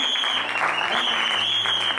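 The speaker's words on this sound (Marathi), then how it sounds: "टाळ्या वाजवा लेडीज साठी, नाही का?" A church congregation applauds the ladies, producing continuous, even clapping that stays steady for two seconds, with a thin high tone running underneath.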